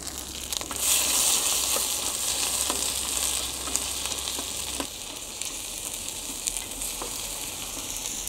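Food is stir-fried in a pan over a small stove at a solo bushcraft camp, giving a soft, continuous sizzle with occasional light taps and scrapes, fairly quiet and with no talking.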